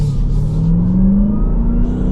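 The supercharged V8 of a 2026 Dodge Durango Hellcat Jailbreak revs, rising in pitch as the SUV accelerates and heard from inside the cabin with a steady low rumble.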